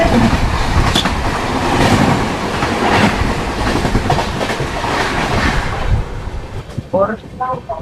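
A Duronto Express crosses on the railway line near Wankaner junction, its wagons rumbling past with a rhythmic clatter close by, fading toward the end as voices talk.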